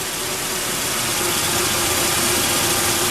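Car engine running at a fast idle after a Seafoam, Marvel Mystery Oil and Lucas engine treatment tune-up: a continuous, even drone with a steady hum, close and unbroken, with no talk.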